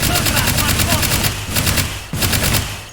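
Rapid automatic gunfire from a weapon fed by a 60-round drum in the VR shooter H3VR, loud and close in sustained bursts with a brief gap, a fast steady rate of fire.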